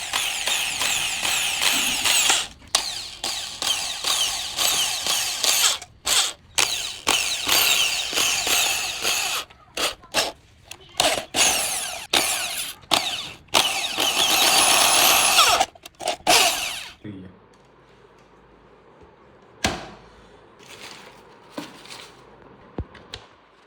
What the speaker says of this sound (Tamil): மார்க் பண்ண இடத்துல ஓட்டை போட்டு வந்தாங்க